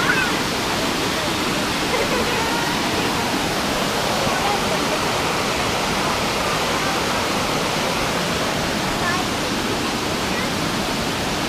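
Waterfall at Vogel State Park pouring in a constant roaring rush of white water, loud and close, unbroken for the whole stretch.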